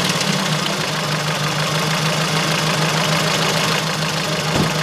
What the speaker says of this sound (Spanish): Vamos a escuchar el sonido entonces del motor de este coche.